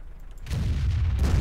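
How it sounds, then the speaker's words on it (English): An artillery shell detonates in a World of Tanks battle, a sudden heavy boom at about half a second that swells into a sustained rumbling roar with crackling debris, loud and close. "It's artillery with a very explosive shell exploding"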